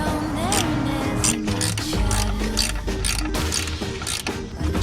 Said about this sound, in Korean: 그 다음에 고정부를 조여 볼게요.